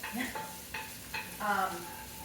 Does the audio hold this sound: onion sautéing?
yes